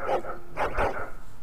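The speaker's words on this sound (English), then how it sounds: "Yeah, keep barking." A dog in the video game Dragon Age Origins barks two or three times in quick succession, close and fairly loud over a steady in-game background.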